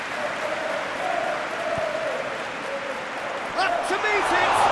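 A crowd applauds in the PES football video game, a broad wash of clapping and cheering at a distance that holds steady and swells slightly near the end, with a commentator's voice talking over it.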